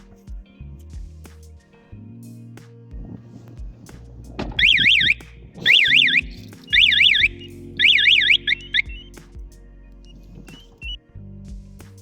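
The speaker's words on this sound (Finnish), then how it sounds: "Tosiaan erittäin herkkä tahtoo olla tämä hälytin" A Baotian scooter's alarm whoops in four loud warbling bursts, with quieter mechanical hum and clicks before and after.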